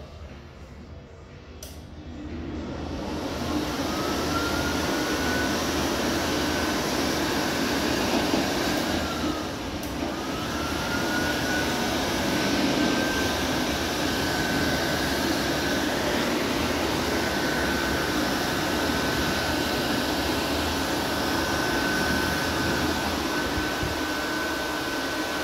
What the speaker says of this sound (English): This hand dryer isn't even that good.